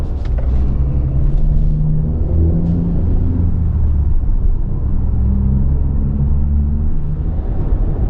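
A Ford Excursion travels along a road, with a constant low rumble of engine and road noise from inside the vehicle and a few faint clicks near the start.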